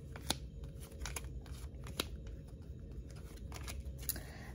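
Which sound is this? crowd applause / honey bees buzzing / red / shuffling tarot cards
shuffling tarot cards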